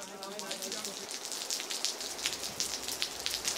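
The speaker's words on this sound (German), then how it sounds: "Wussten Sie noch, wie sich das anhört, wenn es regnet?" Rain falls steadily, a dense, even patter of drops striking a surface, heard at moderate distance without a break.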